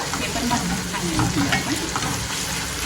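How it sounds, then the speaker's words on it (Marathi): Tomato fries in a pan while being stirred, a close, continuous sizzle with scraping stir strokes over a few seconds. "ओके टोमॅटो पण छान भाजलेला आहे"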